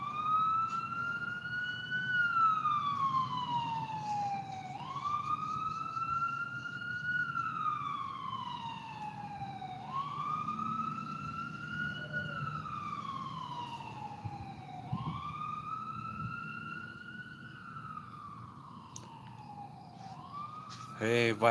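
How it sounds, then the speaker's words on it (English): A wailing ambulance siren sweeps up and down in slow repeated cycles at moderate distance, steady over a low traffic hum. "Yeah, that was just the ambulance."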